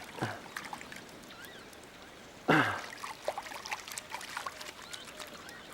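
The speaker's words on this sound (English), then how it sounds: "Let me wash my hands." Hands being washed in creek water produce short splashes and trickles, with a louder splash midway and smaller dribbles after it. The sounds are close and fairly quiet over soft outdoor ambience.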